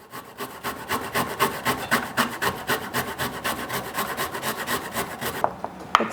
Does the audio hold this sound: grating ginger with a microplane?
yes